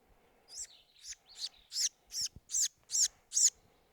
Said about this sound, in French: sporophile rouge-gorge